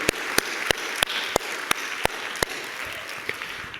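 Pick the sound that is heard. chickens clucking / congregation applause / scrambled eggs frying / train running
congregation applause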